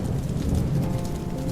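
Rain falls steadily outside, a continuous broadband hiss and patter with a low rumbling undertone, even in level throughout and heard alone without voices.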